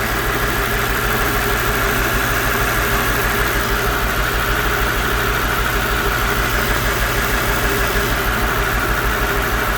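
A Mercedes SL600 V12 engine runs steadily at idle, a close, continuous loud rumble with even vibration and faint knocking-like pulses throughout, no voices over it.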